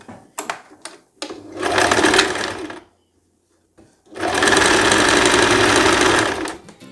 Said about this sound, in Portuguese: vai fazer um pesponto aqui agora para fazer o